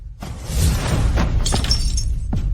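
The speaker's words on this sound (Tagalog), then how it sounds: "ang nabasag na jade bracelet" A jade bracelet shatters in a dramatic domestic scene, loud crashing breaks near 1.2, 1.5 and 2.4 seconds over a dense layer of background sound.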